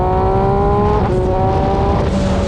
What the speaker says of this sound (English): So that's where it goes when you start giving it some throttle